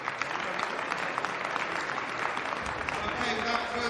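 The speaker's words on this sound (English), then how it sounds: "Big round of applause, please." An audience at a Bhangra-style dance competition event in Wolverhampton breaks into steady, dense applause that carries on throughout, with voices faintly mixed in under the clapping.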